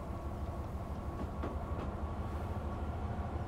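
A train starts to move in the railway simulator game Train Life, giving a steady low rumble with faint, scattered clicks and no voices.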